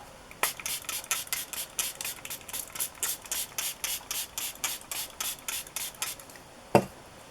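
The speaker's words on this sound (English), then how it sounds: "And I'm going to spray it with water." Some twenty quick spritzes of water from a trigger spray bottle onto a large slide mount, evenly paced and close, ending with one sharper knock.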